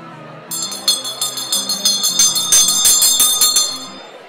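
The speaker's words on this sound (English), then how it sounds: "Lynn will ring the bell." A hand bell rung to mark the end of a timed two-minute round in a group activity, struck in a rapid run of about a dozen bright, ringing strokes that sustain and overlap, loud and close.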